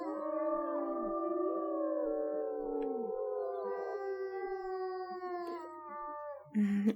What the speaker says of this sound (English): He just felt the need to howl there